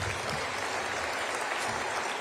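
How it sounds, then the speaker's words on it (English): A crowd applauds steadily at a city State of the City address in Riverside, dense even clapping filling the room for a round of applause honoring a guest, with no voices standing out. "round of applause for Mark Menendez"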